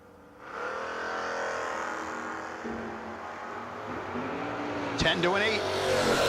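Drag race cars roar off the line side by side at a No-Box 660 shootout, a loud sustained engine blare that builds and rises, with a race announcer talking over it.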